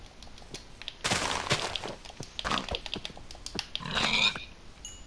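A pig grunts in a video game: a series of short, snorting grunts and oinks in quick bursts, fairly close and alone.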